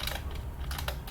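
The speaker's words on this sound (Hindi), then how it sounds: "आप बिल्कुल स्लो टाइपिंग करें शिफ्ट के साथ" Keys on a computer keyboard are struck in a quick, uneven run of light clicks, with a brief pause midway before several more taps, close and fairly quiet.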